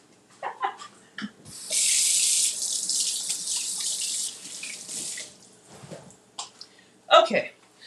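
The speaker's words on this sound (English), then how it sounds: "y'all know me in the hand washing." Hands are washed under a running kitchen faucet while making crème brûlée, the water gushing loudly for a few seconds then stopping, with talk and brief splashes and drips before and after.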